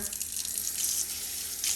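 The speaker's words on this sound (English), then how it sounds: "I turn on the water" Kitchen sink tap running steadily, a continuous close hiss of flowing water throughout, with no talk, while raw chicken is being prepared for spatchcocking.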